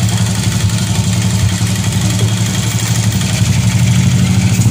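A motorcycle engine runs steadily near at hand with a low, continuous throbbing idle, as the bike is put into gear during a roadside emergency fix on its clutch plates, with no clear change in pitch.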